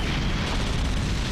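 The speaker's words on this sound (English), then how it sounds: "One generator has been destroyed." A generator blowing up in a Godzilla video game, heard as a dense, sustained roaring explosion that stays loud and steady throughout.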